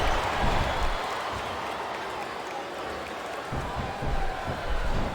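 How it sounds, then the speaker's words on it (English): Video game crowd from WWE SmackDown vs Raw 2007 during a tag match, a steady dense arena roar with swelling chanting and scattered clapping, loud and continuous throughout, with commentators talking over it. "Wow, listen to that chant, Taz."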